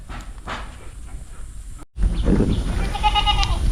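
A Totapuri goat bleats loudly up close, a drawn-out wavering call, after a brief cut in the sound and some earlier rustling.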